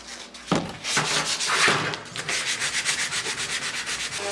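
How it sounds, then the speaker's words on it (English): Wooden pieces for a roll top desk are hand sanded in quick, rhythmic back-and-forth strokes, close up and loud, making a steady scratchy rasping that settles into an even pulse. "I'm going to sand these a little bit more"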